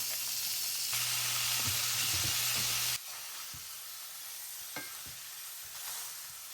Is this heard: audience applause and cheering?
no